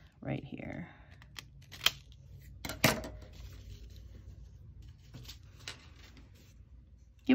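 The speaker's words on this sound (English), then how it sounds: "So I'm just gonna take my scissors and cut that away." Scissors snip through paper card at a craft table, a few quiet close cuts and crisp clicks spaced apart, with faint handling rustles between them.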